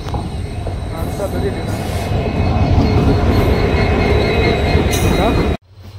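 Loud, rushing rumble of a train pulling into a railway station on the way to Latur, with wheel clatter and brief squeals, cut off abruptly near the end, and voices faintly beneath.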